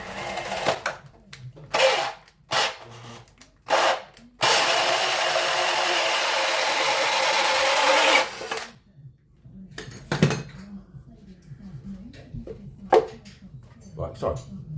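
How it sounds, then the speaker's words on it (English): A power drill with a 64mm hole saw grinds steadily through pallet wood for several seconds, loud and close, between short knocks and someone talking. "This is a 64mm hole saw. All I'm going to do is just drill through"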